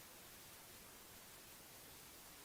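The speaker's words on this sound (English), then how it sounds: "you will need a white noise audio file" Steady white noise hiss, a constant broadband static wash, faint and unchanging throughout.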